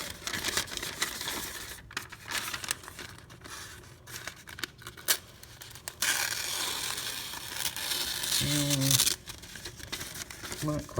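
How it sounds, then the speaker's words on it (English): A freshly sharpened toothy knife slices through thin phone book paper in short bursts of crisp crinkling and tearing, close up, separated by quieter pauses and handling noise. "We cut phone book paper in it."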